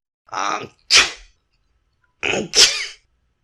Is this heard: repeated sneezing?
yes